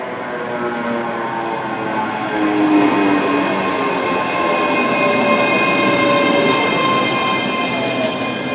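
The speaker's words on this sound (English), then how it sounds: "So our train should be arriving now." A ScotRail train pulls into Falkirk High station with a steady, loud rumble of wheels and carriages, threaded with faint metallic squeals and tonal whines, with no voices over it.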